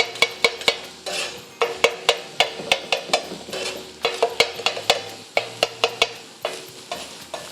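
Keema mince is stirred and mixed on a hot tawa with a spatula, giving a rapid run of sharp metallic scrapes and clacks over a soft sizzle, close and loud.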